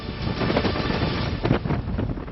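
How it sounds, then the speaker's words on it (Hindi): Stormy sea whipped up by Cyclone Biparjoy off the Mumbai coast, with high waves and strong wind roaring steadily as a dense, continuous rush that swells briefly around the middle. "मुंबई के समंदर में शोर है, ऊंची ऊंची लहरें उठ रही हैं।"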